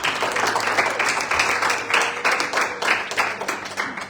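A church congregation applauds steadily, dense clapping with a few sharper individual claps standing out, moderately loud and continuing evenly throughout.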